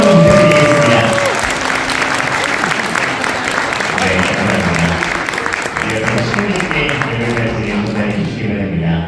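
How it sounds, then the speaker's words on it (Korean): Wedding guests applaud the groom during the ring exchange at a wedding ceremony: loud, continuous crowd clapping with music playing beneath it, tapering slightly toward the end. "끼워주시면 신랑님께 뜨거운 박수 부탁드리겠습니다."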